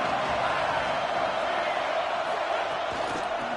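Steady, dense stadium crowd roar from a simulated football video game, a continuous wash of many voices at even loudness with no breaks, filling the whole moment.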